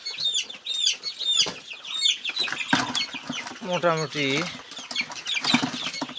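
Thirteen-day-old Sonali chickens cluck, peep and flap their wings close by in short bursts while a person talks over them.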